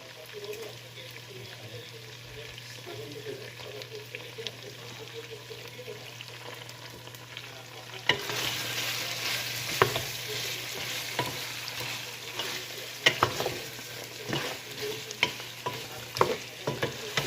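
Kala bhuna meat fries and sizzles in a pan while being stirred, a steady close sizzle that brightens and grows louder partway through, with scraping stir strokes and brief clatters on top.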